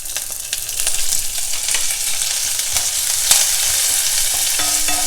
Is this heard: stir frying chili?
yes